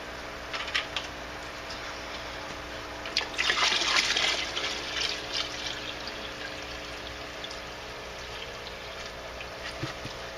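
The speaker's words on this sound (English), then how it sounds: "I'm going to put some more fish water in this one to top that off" Fish water pours and splashes into a bucket where an air stone keeps up a steady bubbling, part of brewing worm tea; the pour swells to a loud rush midway, then eases back to a continuous trickle.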